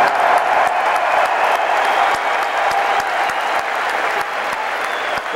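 A large arena crowd at a concert in Philadelphia's First Union Center applauds and cheers for the other bands on the tour, a dense, continuous roar of clapping.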